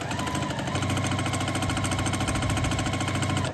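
Sewing machine stitching corners onto a scrappy pineapple quilt block, a steady continuous mechanical whir with a fast rhythmic needle chatter, close and alone throughout.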